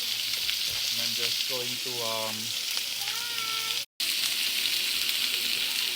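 Pork belly fries in a hot pan with a steady bright hiss of sizzling fat that carries on after a short dropout, while someone talks over the first part.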